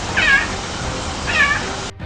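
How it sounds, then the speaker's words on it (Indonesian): A caracal gives two loud, rasping calls about a second apart, each a short harsh meow, with steady background hiss and no talking. "Agak mirip burung, karakal punya suara yang lumayan keras dan tentunya gahar."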